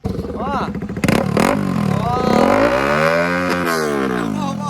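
A modified motorcycle engine revs loudly up close, its pitch climbing and falling through several throttle blips with a rough, rasping exhaust note.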